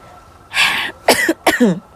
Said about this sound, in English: I occasionally cough